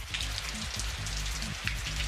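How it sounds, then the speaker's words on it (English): Heavy rain pours down at an outdoor fashion runway show during a storm, a steady dense hiss with low rumbling throughout, loud and close, with no talking. "When the final runway was about to start, it started raining. It was like storming."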